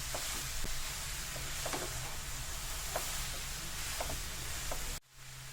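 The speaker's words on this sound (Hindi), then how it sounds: "और इसे हम 2 से 3 मिनट तक घी में भूनेंगे।" Grated carrots in ghee sizzle steadily in a pan over a full gas flame while being roasted for gajar halwa, with soft scraping stirs now and then and a brief drop near the end.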